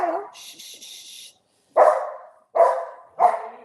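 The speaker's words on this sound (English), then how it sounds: "Little bit of dog excitement when friends arrive." A dog barks excitedly as friends arrive, a short yelp and whine followed by three sharp, loud barks evenly spaced, close by, with a faint higher noise early on.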